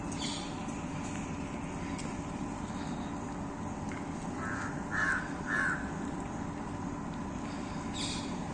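A crow caws twice in quick succession, moderately faint and somewhat distant, over a steady outdoor background wash near a lecture hall complex at IIT on a Sunday evening.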